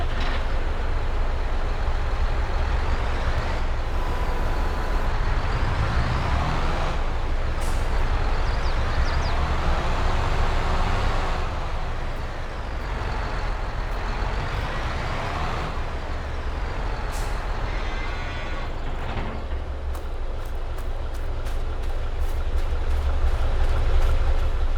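A heavy manure truck hauling 30,000 liters rumbles steadily along in Farming Simulator 22, a continuous low engine drone with shifting tone, an air-brake hiss and a run of rapid beeps near the end.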